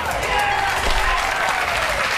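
A studio talk-show audience bursts into loud, close applause, a thick continuous patter of clapping with faint voices mixed in underneath.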